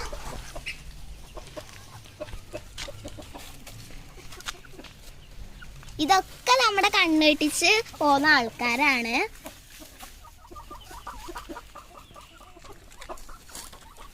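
Free-range backyard chickens cluck and squawk loudly in a burst at close range, with a person talking quietly before and after.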